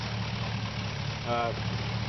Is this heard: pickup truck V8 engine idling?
yes